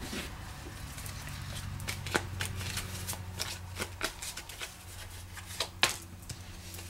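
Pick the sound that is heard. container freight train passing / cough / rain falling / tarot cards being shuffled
tarot cards being shuffled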